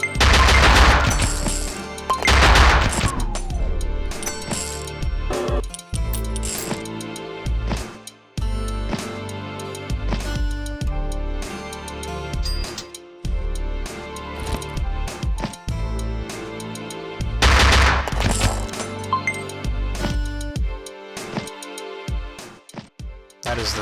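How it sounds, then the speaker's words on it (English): Gunfire rings out in the Luckslinger video game, with loud shots and bursts scattered across the stretch, mixed with busy game music and effects. "you will just barely dodge the barrage of bullets"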